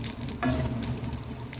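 Tea-shop samosas deep-fry in oil with a soft, steady bubbling and crackle, briefly swelling as a stir or turn stirs the oil, quiet and without voices.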